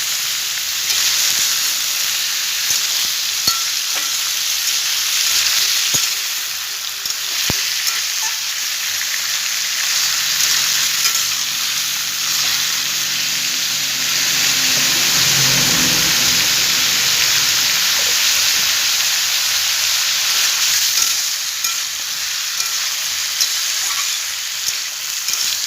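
Bottle gourd curry with red lentil fritters sautéing in a pan gives a loud, continuous frying hiss, with a low rumbling stretch of stirring in the middle and no speech.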